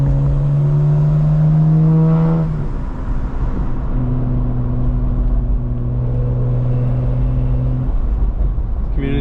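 A 2025 BMW M4 Competition engine heard from inside while driving, a loud low droning hum that swells, dips as the revs fall, then settles into a steady cruise tone.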